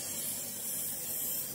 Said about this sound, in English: And then I just spray it with a little bit of good old inset